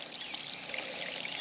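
Water from a well runs steadily into a dug trench on a homestead, a continuous close trickling and pouring flow like a small stream, with no talk.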